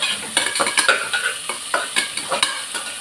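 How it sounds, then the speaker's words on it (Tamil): Onion with ginger and pepper sautéing in a pan for one-pot coconut milk rice, a busy close sizzle broken by repeated quick scrapes and taps of a spoon stirring throughout. "இதை நல்லா இப்போ வதக்கிக்கிடலாம்."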